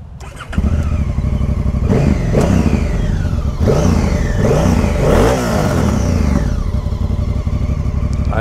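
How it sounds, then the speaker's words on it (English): A Honda Africa Twin motorcycle with its stock exhaust revs up repeatedly, loud and close, rising and falling in several sharp throttle blips over a steady idling engine. "I really like the sound of the stock exhaust"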